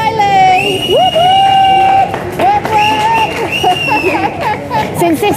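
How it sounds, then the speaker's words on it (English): At the Cavern Club in Liverpool, a crowd cheers and whoops for Riley after a Hey Jude singalong, excited voices and hoots loud and close, mixed with speech, with only light clapping beneath. "Round of applause for Riley!"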